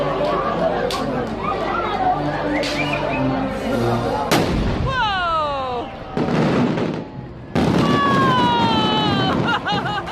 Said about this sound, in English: this dramatic explosion was actually caused by an underwater blasting operation in Finland